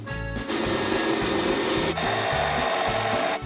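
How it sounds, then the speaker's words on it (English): Steady abrasive rasping of sandpaper against scrap wood spinning on a Parkside lathe, with a brief break partway through and a low mechanical hum underneath. "So sandpaper on there again."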